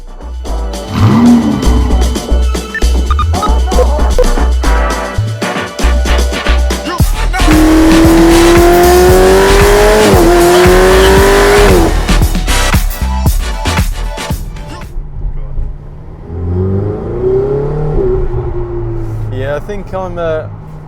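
A Ferrari 488 GTB on the road, its engine note rising and falling with revving acceleration and gear changes, loud and close throughout; someone talks over parts of the drive.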